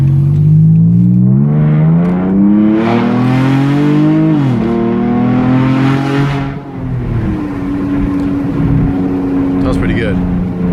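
A 2012 Dodge Charger SXT with a 3.6L V6, Magnapacks exhaust and a K&N intake revs up hard, its loud throaty engine note climbing in pitch, dropping briefly, then settling to a steady drone.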